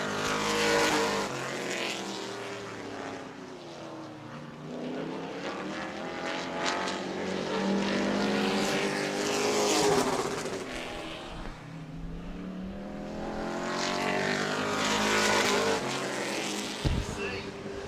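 Pro trucks racing on an oval at Auburndale, engines roaring loud and continuous as they pass, with swelling and fading passes and a race announcer talking over the engine noise throughout.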